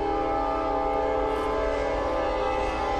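A loud, sustained train horn blares right nearby, a steady chord-like tone holding for several seconds over the rumble of the passing train.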